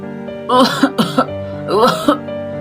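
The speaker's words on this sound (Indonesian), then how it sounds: "Suara batuk parau yang sangat keras dan berdahak menyakitkan pecah dari tenggorokan" Two rough, hoarse coughing fits, each a cluster of harsh bursts from close up, separated by a brief pause.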